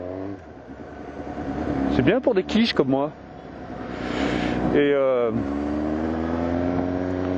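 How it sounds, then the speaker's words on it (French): Engine of a Suzuki GSX-S750 roadster motorcycle revs nearby, rising and falling sharply in a short burst, then settles into a steady drone. Someone talks over it throughout. "On aurait dit un bruit de GSX-R."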